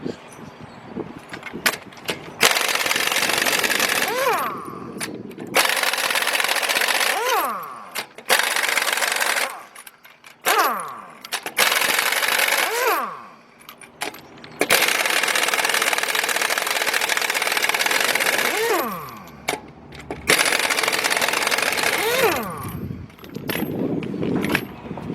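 Lug nuts coming off the front wheels of a 2002 Toyota Tacoma with a 13/16 or 21 mm socket, loud bursts of an air-tool whir with spin-down tails repeated several times, separated by short gaps and clanks.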